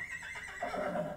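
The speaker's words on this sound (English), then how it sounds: "let's say I had a horse in the scene and I wanted that" A horse neighs in a single clear whinny from a sound effect library, rising then falling in pitch, close and isolated, with no voices.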